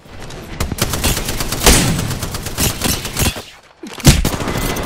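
Rapid gunfire from a weapon in the video game Apex Legends, a loud, dense run of shots that falls silent briefly and then starts again.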